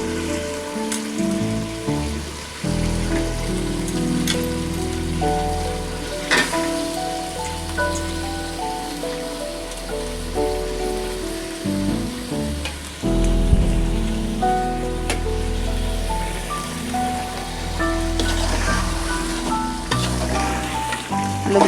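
Potatoes sizzle and fry steadily while being sautéed for a beef curry, a continuous crackling hiss with occasional stirring scrapes, under music throughout with no speech.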